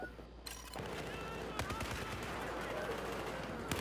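Battlefield 4 gunfire crackles in repeated sharp bursts with a loud shot near the start and another at the end, steady battle noise throughout.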